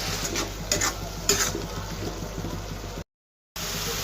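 Spice masala with garam masala, turmeric, chili powder and salt frying in a pan, a steady close sizzle with a few scraping stirs near the start, then a brief dropout before the sizzling resumes.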